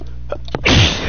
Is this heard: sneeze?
yes